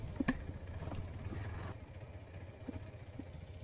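Motorcycle engine on an off-road trail ride near Morbe Dam, a low, uneven rumble with clattering bursts, fairly faint and steady, easing slightly partway through, with no voices.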